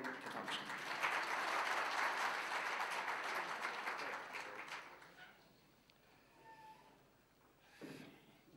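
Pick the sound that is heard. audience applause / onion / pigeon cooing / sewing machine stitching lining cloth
audience applause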